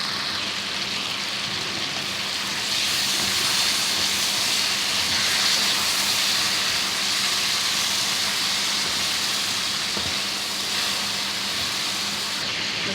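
Spices being fried (bhuna) in a pot for koila karahi, a loud, steady hissing sizzle with a brief scrape near the end.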